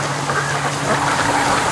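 Ducks quack outdoors by a creek, with seagulls nearby, in a steady, moderately loud spread of calls across the scene.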